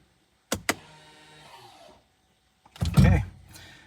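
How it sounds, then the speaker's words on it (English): Electric parking brake on a 2019 Ford Escape releasing and then setting: two sharp clicks, a whirring motor run, then a louder, longer motor whine with a mechanical clunk, close by and without talk. "we'll test the parking brake function, make sure that it releases and sets properly"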